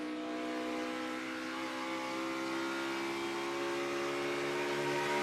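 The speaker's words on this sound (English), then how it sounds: "Junior, then we heard Kevin Harvick, how they over-rev their engines." NASCAR race car engines at Pocono Raceway during the 2017 Pocono 400 scream in a steady, high-pitched drone that holds for over five seconds, fairly distant and even in level, with no talk over it.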